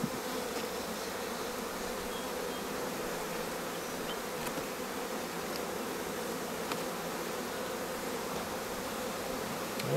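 Honey bees hum steadily around an apiary hive being boosted in cold weather, a dense continuous buzz close by with no voices, holding level for the whole stretch.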